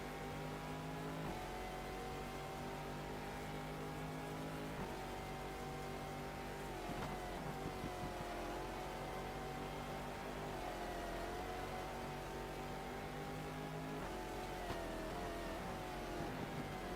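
A Judd V10 race car engine in a racing video game set at the 2000 12 Hours of Sebring drones loud and steady for the whole stretch, its pitch stepping up and down with shifts and throttle changes, with no talking.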